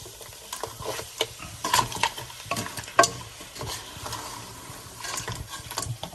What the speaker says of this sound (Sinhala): උඩට අරගෙන මේ කකුලුවන්ගේ තවර ගන්න ඕනේ ඔක්කොම ටික. ආයි හැමතැනම තියෙන ටික අරගෙන කකුලුවන්ගේ මෙහෙම හොඳට මික්ස් කරගන්න.